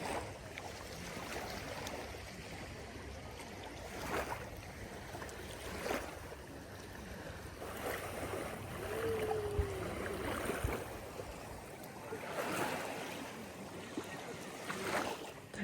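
Sea waves wash onto the shore in a steady, fairly faint roar, with gentle swells rising and falling in the background.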